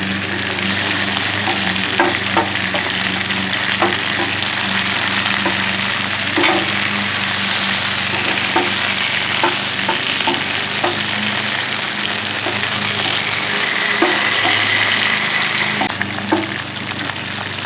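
Tortellini and extra sharp yellow cheese kabobs with peppers sizzle on a griddle in a steady, close crackling hiss, with occasional faint taps throughout and no talking.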